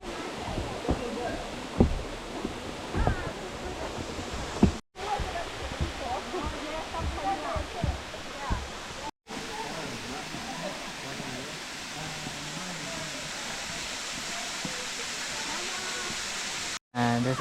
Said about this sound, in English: And there's another waterfall.